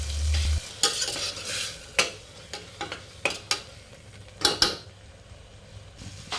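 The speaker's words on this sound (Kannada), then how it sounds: "ಎಣ್ಣೆಯಲ್ಲೇ ಚೆನ್ನಾಗಿ ಇದನ್ನು ಫ್ರೈ ಮಾಡ್ಕೊಳ್ಬೇಕು" Ground masala fries in oil for aloo kurma, a soft sizzle under repeated scraping stir strokes of a spoon against the pan, heard close up as irregular clinks and scrapes without any talking.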